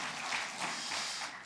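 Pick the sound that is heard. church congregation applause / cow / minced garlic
church congregation applause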